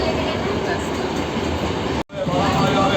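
A loud, constant rushing rumble fills a moving passenger train carriage on the way to Dhubulia station near Mayapur. The roar cuts out for an instant, then resumes with the same steady clatter.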